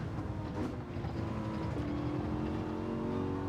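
A Mercedes-AMG GT3 race car in Gran Turismo 7 holds a steady, droning engine note at high revs, with the pitch shifting slightly, heard continuously from close by without talk.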